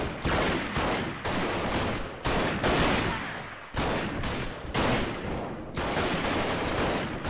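Rapid bursts of gunfire from the video game Freeman Guerrilla Warfare, several loud close volleys in quick succession with brief gaps, dense and sustained throughout with no talking.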